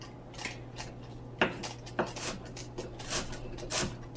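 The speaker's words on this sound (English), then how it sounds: "I turned my heat on before I started chopping this onion" Knife chopping an onion into small pieces on a cutting board in a home kitchen, heard as a handful of separate sharp chops at an uneven pace, close and fairly quiet over a steady low hum.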